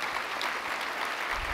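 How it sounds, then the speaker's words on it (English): Audience clapping for city council members at a State of the City address in Norfolk, a brief, soft burst of steady applause from a seated crowd, distant and even with no talk over it. "Let's give them a round of applause, please."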